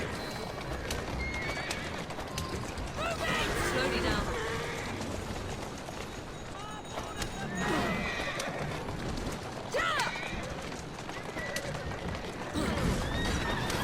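Horse-drawn cart driven through the streets in Assassin's Creed Syndicate, with steady clip-clop of hooves, repeated neighing and whinnying, and wheel rumble filling the scene while game voices talk over it.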